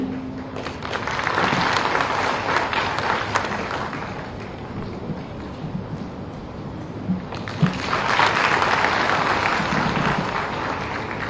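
Loud, sustained audience applause at a government health-card ceremony, a dense roar of clapping that dips midway and then swells again.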